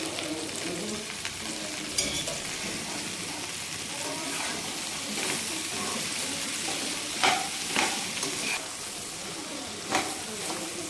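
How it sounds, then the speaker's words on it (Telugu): Okra (bendakaya) fries in oil in a pan. A continuous crackling sizzle fills the sound, with occasional utensil scrapes and stirring knocks and no voices. "తర్వాత ఆయిల్ వేసుకున్న తర్వాత ఈ బెండకాయలను అయితే ఫ్రై చేసుకోవాలి"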